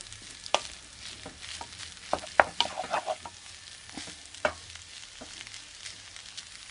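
Beef stir fry sizzles in oil in a pan, a steady hiss of frying broken by scattered sharp pops and clinks of stirring, close and fairly quiet, with no talking.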